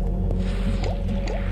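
Bubbly game sound effects from the video game Element4l, soft squishy pops and drip-like blips repeating over a steady droning musical backdrop, fairly close and moderately loud.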